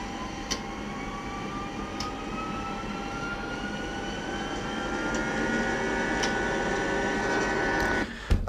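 Airbus A320 jet engines spool up toward takeoff thrust inside the cockpit, a steady rising whine under a constant broadband roar, ending with a brief louder burst.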